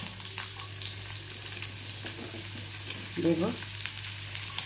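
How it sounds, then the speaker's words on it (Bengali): Onions frying in white oil with curry leaves, a steady close sizzle with occasional stirring scrapes; a voice speaks once briefly early on. "পেঁয়াজটা হালকা ফ্রাই করে নিই।"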